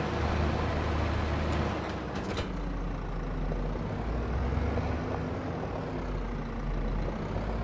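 A small tractor engine in the Farming Simulator game rumbles steadily and close, a low continuous drone with a few brief sharp transients early on and no talking.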